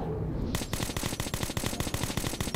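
Automatic gunfire in the shooter Metro 2033 Redux bursts in suddenly after a brief lull, then continues as a steady, loud, close rattle of rapid shots to the end.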